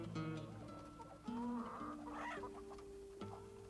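Hens cluck and call softly at a fish farm where the poultry is kept over fish ponds, a few drawn-out tonal clucks following one another at a moderate distance over quiet background.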